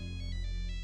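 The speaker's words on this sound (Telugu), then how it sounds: "అన్నయ్య ఫోన్ వచ్చింది." A mobile phone ringtone plays a brief, clear, steady electronic melody, close and moderately loud, with no voices over it.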